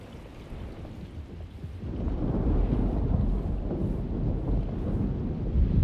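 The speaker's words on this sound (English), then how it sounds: "Looks like a storm's coming." A thunderstorm in the video game Alone in the Dark, with a low rolling thunder rumble swelling and holding steady over a constant wash of rain and wind.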